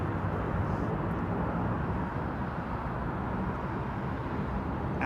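An airliner taxiing at London Heathrow Airport at sunset: a steady, broadband jet engine roar holds at even loudness throughout, with no speech.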